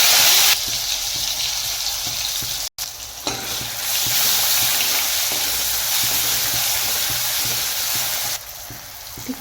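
Cumin seeds and onion frying in hot oil for a ridge gourd curry, a steady loud sizzle with stirring scrapes that runs almost without a break, with one brief gap partway through.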